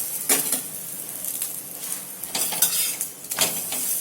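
An onion paratha cooks in oil on a pan, giving a low sizzle broken by several sharp scrapes and clinks of a spatula against the pan.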